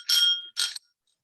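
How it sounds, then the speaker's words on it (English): Two bright bell rings sound close by, the first sustained about half a second, the second shorter, leaving a faint lingering tone and then silence. "it's a bell"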